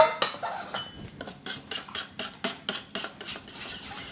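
A whisk beats an egg into scone batter in a bowl, making a quick, regular run of clinking strokes against the bowl's sides, close and clear with no talking.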